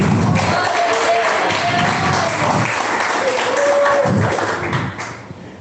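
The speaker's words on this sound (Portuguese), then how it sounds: "As palmas que exaltam o Rei Jesus." A church congregation claps during an evangelical sermon, a dense, sustained wash of many hands that fades near the end, with voices faintly mixed in.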